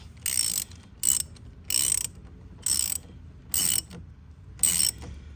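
Ratchet wrench tightening the battery terminal nut on a Chrysler Pacifica, six short bursts of rapid clicking separated by brief pauses, close and clear.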